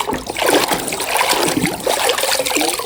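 A yellow toy truck is swished and rinsed in water, giving continuous close splashing and trickling with small sloshes throughout.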